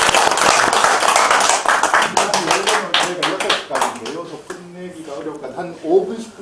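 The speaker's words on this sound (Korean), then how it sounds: "장재빈님께 박수 쳐주세요" An audience claps and applauds for performers and a guest social worker at a talk about recovery from mental illness. The dense clapping fills the first few seconds and then thins out as a voice takes over.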